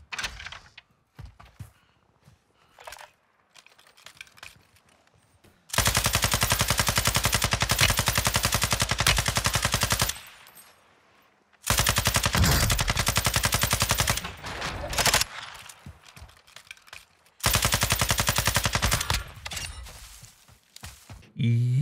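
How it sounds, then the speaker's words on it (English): Sustained bursts of Sakin MG38 light machine gun fire in Warzone 2, three long loud strings of rapid automatic shots separated by quieter gameplay sounds and short gaps. "This light machine gun has no recoil at all."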